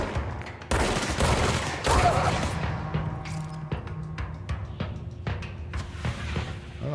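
Video game gunfire in a close, loud burst of shots, followed by scattered single cracks and thuds that fade into quieter sporadic firing.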